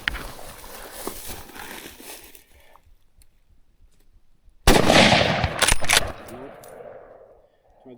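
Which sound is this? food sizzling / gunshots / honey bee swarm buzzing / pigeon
gunshots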